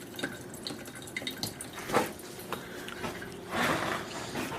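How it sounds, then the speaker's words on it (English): A coffee maker brewing gives soft, irregular drips and small liquid splashes with gurgling bursts, close but quiet against a faint background. "I don't know if you can hear the dripping of the coffee maker"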